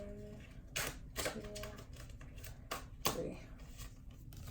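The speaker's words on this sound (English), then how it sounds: "I'm gonna shuffle 3 more times" A deck of tarot cards being shuffled by hand, with a few sharp riffling bursts spaced irregularly over a low background hum, close and fairly quiet.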